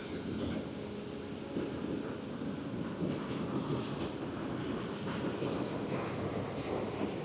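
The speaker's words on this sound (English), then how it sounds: "the Clamp Hole waterfall dropping down through the gorge" Clamp Hole waterfall dropping through a gorge after heavy rain, a steady rushing roar of falling water with wind buffeting the microphone throughout.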